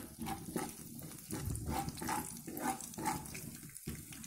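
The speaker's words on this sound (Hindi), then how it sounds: "अब हम इसमें 1 टीस्पून साबुत धनिया डालेंगे, इसे भी डाल के अच्छे से रोस्ट कर लें।" Whole coriander seeds roast in a pan for a spiced gram-flour kachori filling, giving a steady close sizzling hiss with rhythmic scraping surges as they are stirred, and no voices.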